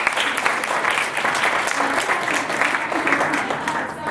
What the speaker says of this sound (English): So let's just give him a round of applause